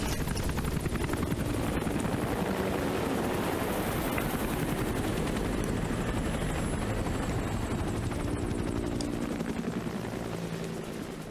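A military helicopter in Metal Gear Solid V thunders loudly and continuously as it lifts off and departs, rotor chop dense and steady throughout, fading only slightly at the end, with no speech.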